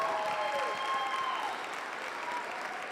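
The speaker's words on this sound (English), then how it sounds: "Give them a big round of applause." An audience applauds at a youth fair market hog showmanship event in Polk County, the clapping steady and somewhat distant, with faint whistles over it.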